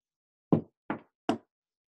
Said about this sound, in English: If I were riding a bus or jeepney, that knock would indicate that I've reached my stop.